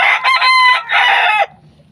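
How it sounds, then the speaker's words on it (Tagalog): A rooster crows loudly and close by in a single harsh, drawn-out call lasting over a second, followed by quiet. "Tapos may manok pa po digdi."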